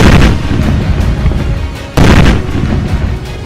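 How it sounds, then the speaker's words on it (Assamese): The army's controlled detonation of a 3 kg IED near the Paltan Bazar cantonment in Dibrugarh, a loud booming blast at the start followed by a second heavy thump midway, with rumbling echoes between. "ডিব্ৰুগড়ৰ পল্টন বজাৰ সেনা চাউনিৰ কাষতে ঘটালে এই ভয়ংকৰ বিস্ফোৰণ"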